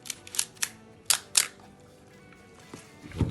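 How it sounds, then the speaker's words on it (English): A vintage Nikon film camera shutter fires in a rapid series of several crisp mechanical clicks, close and loud in a quiet room. "the shutter is also working as it should."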